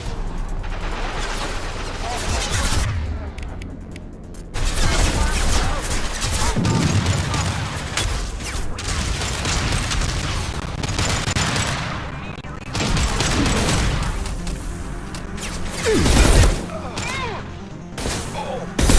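Combat in the video game Mass Effect 2: loud, dense volleys of gunfire and heavy impacts keep firing almost nonstop, with brief lulls and a few voices mixed in.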